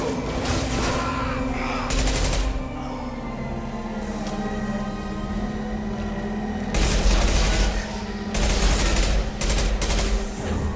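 Incendiary-ammo gunfire in Mass Effect 2, loud bursts of rapid automatic shots in several volleys over a steady hum of battle, with no talk.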